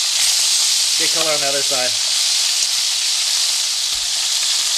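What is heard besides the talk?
meat browning in a frying pan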